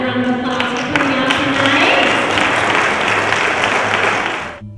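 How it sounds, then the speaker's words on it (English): Applause from an audience at an LGBT celebration of the Martin Luther King Jr. National Memorial, a dense, steady wash of clapping lasting several seconds with a few voices and tones mixed in, fading out at the end. "I want to give all of you guys a round of applause for coming out"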